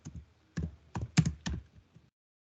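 Five or six sharp keystrokes on a computer keyboard while coding in Node.js, close and clear, spaced irregularly before fading to silence.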